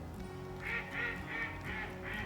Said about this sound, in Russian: А это утки кричат.